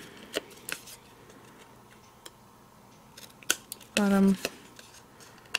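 Scissors snip through layered paper card from a pop-up vignette die-cut, giving several sharp separate clicks and cuts near the mic, with a speaking voice between them.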